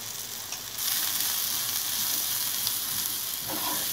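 Chopped onion fries with a pinch of salt in a pan, giving a steady, close, loud sizzle that swells slightly after the first second, with faint stirring scrapes beneath.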